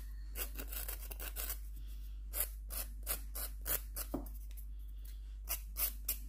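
A nail file scrapes along the edge of a press-on nail tip in short, repeated strokes with a steady rhythm, close and quiet over a low constant hum.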